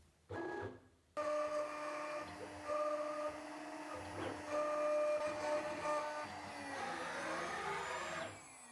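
A CNC machine carves a wooden cutting board with a sustained mechanical whine and buzzing tones that start and stop abruptly, waver in pitch, and swell into brighter sweeping tones near the end.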